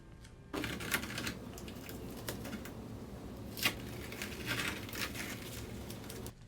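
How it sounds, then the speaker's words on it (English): Masking tape peeled off a painting in a crafting session, a continuous crackling, ripping texture with a few sharper tearing bursts, close and quiet. "Just start ripping the tape off."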